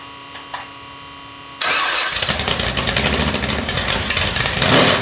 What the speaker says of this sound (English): I'm going to fire up the 412 small block Chev with open headers.